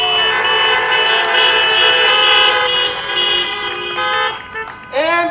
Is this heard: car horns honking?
yes